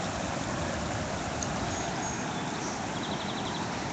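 River water flows under a bridge with a steady, broad rushing hiss, constant and fairly soft, without any voices.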